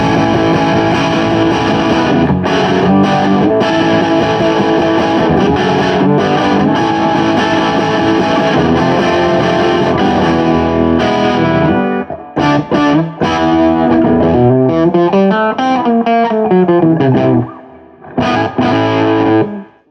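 Heavily distorted electric guitar through a Peavey Road Master amp with pre-gain maxed on the normal channel, loud sustained chords first, then bending, wavering notes with brief gaps and a sudden stop.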